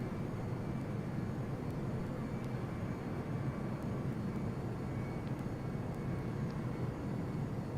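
An Iris F-22 Raptor's jet engines run up steadily on the runway in Flight Simulator X, a continuous even roar with a low rumble that holds at constant loudness throughout, no voices.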